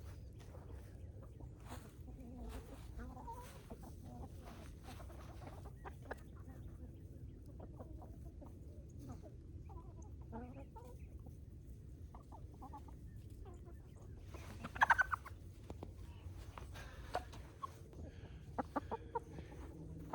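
Chickens pecking at their feed, soft scattered clucks and murmurs at low volume, with brief sharper squawks and rustling near the middle and toward the end.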